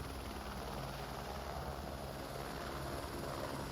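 A Squirrel helicopter on a scenic glacier flight over the west coast of New Zealand's South Island gives a constant, dense rotor and turbine roar, loud and even from start to finish.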